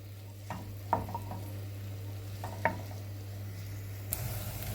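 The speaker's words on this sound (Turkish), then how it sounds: "Şimdi bunları soğanlarımızı pembeleşinceye kadar biraz kavuralım" Onions and grated garlic sauté in oil in a pan with a steady sizzle, while a utensil stirs and scrapes with a few distinct clinks and taps; a brighter burst of frying noise comes at the end.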